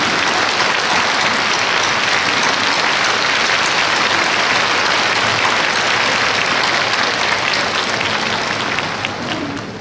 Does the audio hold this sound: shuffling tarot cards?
no